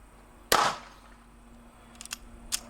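A 9mm pistol fired by an eight-year-old girl, one sharp loud report followed by quieter clicks and a fainter pop, heard outdoors with no one speaking.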